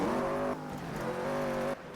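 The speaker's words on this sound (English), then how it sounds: "so that's just rev limiter" Monster truck engine in Toca Race Driver 3 bouncing on the rev limiter, a steady buzzing high-rev drone that cuts and drops briefly, then continues before falling off at the end.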